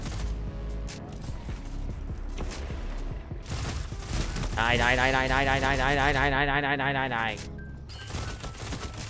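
A Swift Ride pulse rifle fires in Destiny 2, loud rapid bursts of gunfire mixed with game effects and a steady tone under excited talk from a player.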